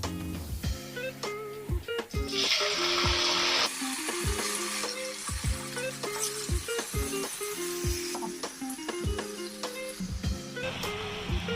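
About a kilogram of chicken liver frying in hot oil in a pan, a steady close sizzle broken by rhythmic scraping and clinking as it is stirred, with no talking.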